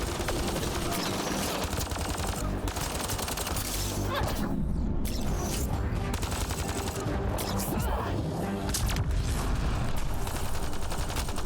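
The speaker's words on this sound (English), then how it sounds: "this submachine gun sucks ass" Rapid submachine gun fire in a first-person shooter, sustained bursts that keep going almost without pause across the whole stretch, loud and dense, with game sounds layered underneath.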